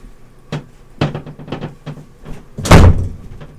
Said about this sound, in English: That was the slam door of Keep Out Cats